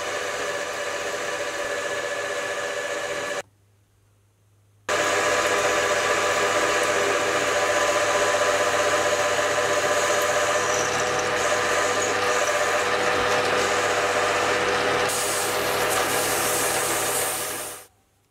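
A metal lathe, converted for wood turning, turns down an 18mm shank on the back end of a workpiece. It gives a steady loud whine and hiss with a short pause near the start, then runs continuously before cutting off at the end, with no talk.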